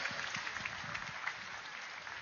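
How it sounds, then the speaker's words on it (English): At a mega meditation summit, an audience gives a round of applause for the event team: steady, somewhat distant clapping from many people, moderately quiet and even throughout. "So another round of applause for the entire team of Pyramid Valley and Soul Nest."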